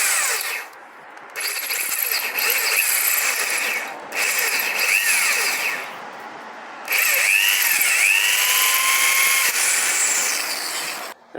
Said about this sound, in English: you can see how I always bend it so it drills to the middle of the hole